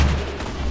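A grenade blast in a battle royale shooter, a short booming burst with heavy low rumble sustained across the moment, loud and close with no talk over it.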